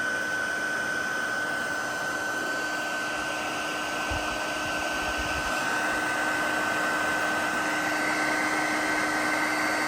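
A blower flash-drying cleaning chemicals off amplifier tube sockets during restoration of a 1975 Fender Twin Reverb, a loud steady whooshing air stream with a constant whine, unbroken for the whole stretch.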